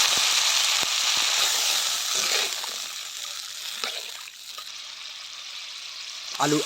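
Fish curry with drumstick pieces, potatoes, salt and a little water is sautéed in a pot over a wood-fired clay stove. A loud close sizzle fades to a softer hiss, broken by stirring clinks and a sharp burst at the end.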